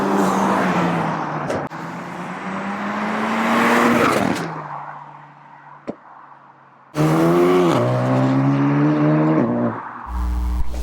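A tuned car with an Ultratech high-pressure fuel pump and methanol injection accelerates hard on a public road, its engine note rising through the gears with loud, close cabin drone and brief drops between shifts.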